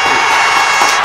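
A big round of applause swells as a dense, continuous wash of clapping mixed with crowd cheering, loud and steady for about a second with no talking.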